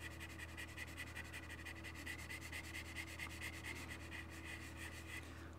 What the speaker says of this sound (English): let's try just lightly sanding with 400 grit